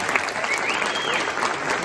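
An audience gives a round of applause after a stage performance, continuous close clapping at steady volume across the short moment, with a faint high tone drifting through.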